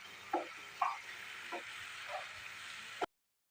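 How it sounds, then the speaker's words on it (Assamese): Spices fry faintly with potatoes in a pan for a taro leaves curry, a soft steady sizzle under a few light utensil taps. "এইখিনি মই মছলাখিনি আলুৰ সৈতে ভাজিম"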